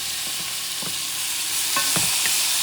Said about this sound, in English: Sauteing this baby. I'm going to add some of the chunk of tomatoes.